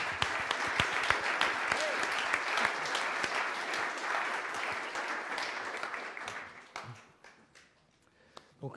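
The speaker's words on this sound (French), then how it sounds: "Donc, je vous demande d'applaudir Olivier." An audience applauds at a charity event where a cheque is presented, with dense, loud clapping that holds steady for several seconds, then thins out and fades, leaving a few scattered claps at the end.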